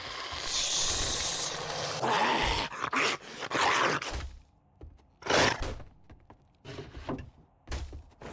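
Zombie dogs in the survival video game 7 Days to Die give off a few faint, broken growls and thumps in short bursts, separated by quiet gaps, with no talk over them.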